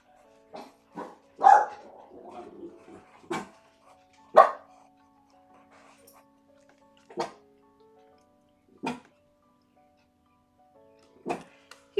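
A dog barks in short single woofs spread across an indoor room, about seven or eight separate barks at irregular intervals, fairly close, with quiet gaps between them and no talking.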